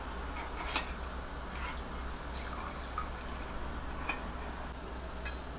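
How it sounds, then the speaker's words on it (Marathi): Water pours steadily into a mixer jar holding rice flour for uttapam batter, a continuous close trickling with small drips, no voices. "तर याच मिक्सरच्या भांड्यात मी थोडंसं पाणी घालणार आहे"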